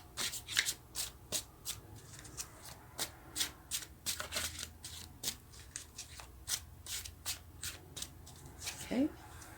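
A deck of playing cards is shuffled and handled during a tarot reading, with rapid crisp riffles and snaps close to the mic, while a voice talks faintly in the background.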